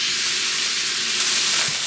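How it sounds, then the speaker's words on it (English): Beef braciole searing in a hot pan with a light film of oil: a loud, steady, close sizzle that runs throughout with no talking. "I'm going to pan sear the ones that are going in the gravy"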